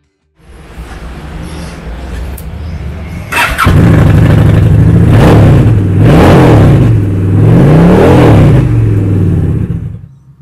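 A 2011 Honda VT750 Shadow 750 Aero motorcycle starts and idles loudly up close, its V-twin engine rumbling steadily and then revving in three rising and falling swells, with no talking.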